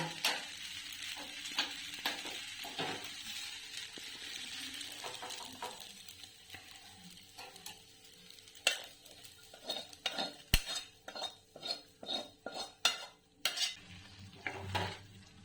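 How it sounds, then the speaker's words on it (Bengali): White sauce pasta gets stirred and mixed in a pan, with repeated scraping and clinking of a utensil against the pan that comes in irregular strokes, close and clear, growing more frequent toward the end. "এবার এই হোয়াইট সসের সঙ্গে এটা ভালো করে মিশিয়ে নেব।"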